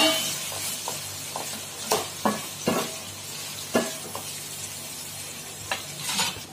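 Chicken biryani masala with onions is stirred in a hot pan, a series of spaced scrapes and knocks from the utensil over a soft, steady sizzle, close and moderately quiet.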